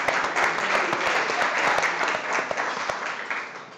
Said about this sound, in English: Let's give the Epicurean a big round of applause